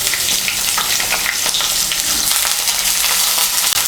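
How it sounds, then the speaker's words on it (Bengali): Thin strips of deseeded bitter gourd, about 200 grams, fry in hot oil with a loud, dense, continuous sizzle and crackle close up, with no voices over it. "এই তেলের মধ্যে উচ্ছেগুলো ভেজে নেব।"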